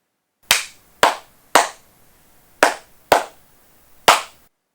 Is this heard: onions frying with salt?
no